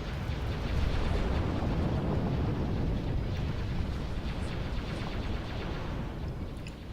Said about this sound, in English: Fuel cells detonated.